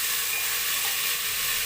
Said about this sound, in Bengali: পেঁয়াজের কালার পরিবর্তন হয়ে গেছে, দিয়ে দেবো ছোলাগুলো।